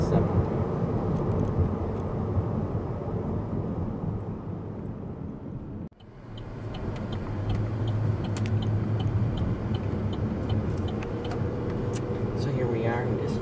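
A 2011 Saab 9-5 drives along a road, with a steady engine and road rumble heard from inside the cabin throughout, briefly dipping partway before resuming; a voice talks over the noise.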